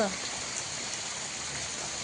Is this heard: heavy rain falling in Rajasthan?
yes